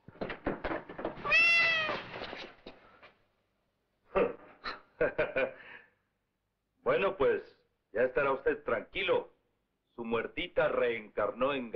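A cat in a 1959 film lets out one long, clear, close meow, followed by several stretches of people talking.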